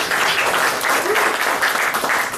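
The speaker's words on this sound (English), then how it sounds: "Give yourselves a round of applause." An audience at a political talk applauds loudly and steadily for a couple of seconds, a dense wash of many hands clapping together.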